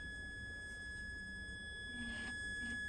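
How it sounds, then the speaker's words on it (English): A clean sine-wave test tone plays steadily through a 1960s Lasky's Sprite AM radio under repair, a faint continuous pure pitch over low hum and background noise. "that's pretty clean sine wave"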